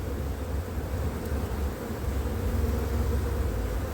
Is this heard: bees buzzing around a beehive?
yes